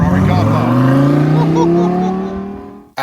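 Italian sports car pulls out of a Ferrari car park, its engine revving loudly with a rising pitch as it accelerates away, then dropping off before a brief final burst.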